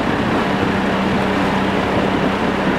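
A boat motor runs steadily on Raystown Lake, a constant low droning hum with a broadband wash, close and fairly loud, with no voices.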